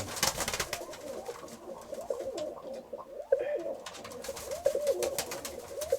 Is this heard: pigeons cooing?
yes